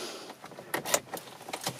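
Car key going into the ignition of a Chevrolet Sonic, a brief cluster of quiet metallic clicks and jingling from the key ring, close and faint inside the car.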